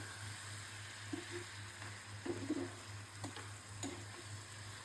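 Singhi catfish is stir-fried in a pan, giving a quiet, steady sizzle with a few louder scraping stirs and clinks, close but faint over a low constant hum.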